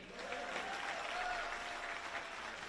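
Audience at a virtual career academy closing celebration giving a round of applause for a speaker, steady moderate clapping from many hands in an indoor hall, sustained and even throughout.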